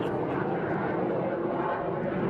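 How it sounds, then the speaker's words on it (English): An airplane passes overhead outdoors, a steady, broad engine roar that holds at an even level throughout without fading. "Or is that our plane to Canada?"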